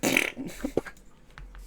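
A voice makes a brief burst of breathy, sputtering noise imitating fireworks, followed by a few small pops and quiet.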